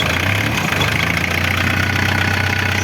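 A rough, rattling old Ford Sierra 2.3 diesel engine idles steadily and loudly up close, with a low knocking chug throughout and no speech.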